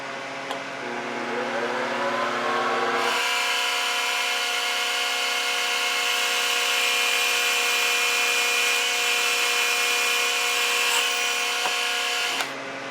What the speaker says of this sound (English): I'll drill that and tap it and then turn this over, do on the other side.